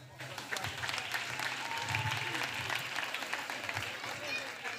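Applause from a church congregation cheering zealous children of God at a prayer gathering, steady broadband clapping throughout, with voices and crowd noise mixed in.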